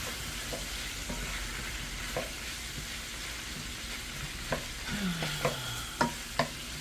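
Squash stirred into a pan of frying sausage and sweet potatoes, a steady close sizzle broken by several scraping stirs and spoon knocks toward the end.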